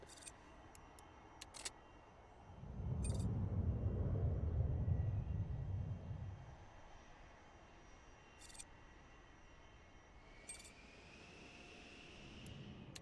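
Airplanes in the SimAirport video game: a faint, distant engine rumble swells for a few seconds and fades, amid sparse clicks and a quiet background hum.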